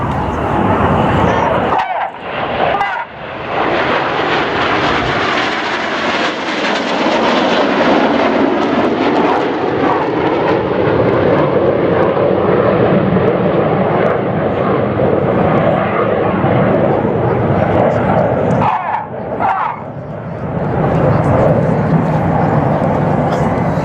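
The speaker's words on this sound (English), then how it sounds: "The inside pilots perform tight matched rolls to the outside in the rollbacks." Red Arrows jets roar overhead through aerobatic rollbacks at an air show, a loud sustained jet rumble that swells and fades with brief drops between passes.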